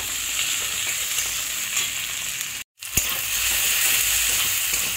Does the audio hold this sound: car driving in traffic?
no